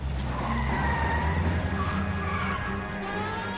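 Cars in an illegal street race in L.A. Noire, a sustained screech of tires skidding over a steady engine roar, loud and continuous throughout.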